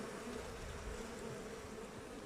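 A dense, continuous hum of honeybees crowding the entrance of an overfull hive, close and steady with no pauses.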